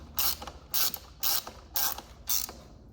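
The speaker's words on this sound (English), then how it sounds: "Now I'm just gonna be tightening" Five evenly spaced bursts of ratcheting from a hand wrench tightening bolts on the rear end of a Yamaha YFZ ATV during a chain, sprocket, brake and bearing job, each pull loud and close with brief pauses between.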